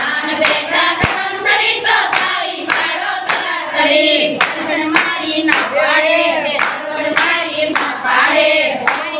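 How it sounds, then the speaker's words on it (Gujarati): Rhythmic hand clapping keeps steady time along with a Gujarati devotional bhajan, sharp claps repeating about every half second over continuous singing voices and music. "તાળી પાડો તરાતડી"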